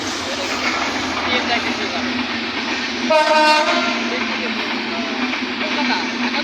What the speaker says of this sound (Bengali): কলকাতা ইন্ডিয়ান ট্রেন দেখুন এটা ইন্ডিয়ান না ঢাকা কলকাতা